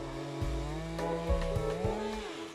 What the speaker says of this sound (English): these chainsaws have redefined the art of precision in high-altitude logging work